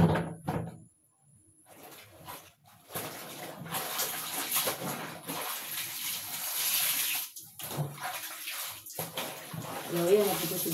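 Tap water gushes steadily into a basin being refilled for washing bedsheets, close and fairly loud, stopping and restarting in bursts, with someone talking over parts of it.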